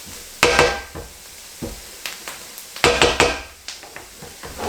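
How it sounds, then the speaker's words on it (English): Spoon or utensil clattering and scraping in a pan while thick gravy is stirred for smothered cubed steak, with irregular knocks and scrapes at close range, and no talking. "I'm going to mix it up. Get us a nice thick gravy going."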